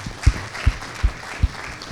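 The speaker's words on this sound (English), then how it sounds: "Let's give a round of applause." An audience at a patient discussion meeting applauds, with a few loud, evenly spaced claps close by standing out over a quieter spread of clapping.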